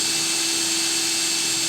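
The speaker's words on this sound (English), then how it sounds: "you can see just how slow this moves by using the drill" Cordless drill fitted with a 5/16 socket driving the landing gear leg of an RV, giving a steady, continuous whirring hum at close range for the whole stretch with no talking.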